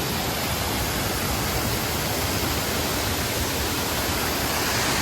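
Lake water cascading down from a filled lake, a dense, steady rushing roar with no breaks, loud and close, with no talk.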